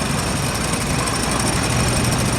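A pair of David Bradley 1.5 horsepower tractors rolling in a town centennial parade, their small engine giving a steady, close, rattling putter with no pauses.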